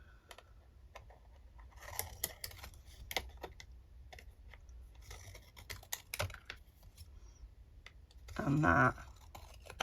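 Scissors snipping around the pictures on old Christmas cards to make gift tags, a soft series of irregular close clicks and scrapes, with brief quiet speech and a louder rustle near the end.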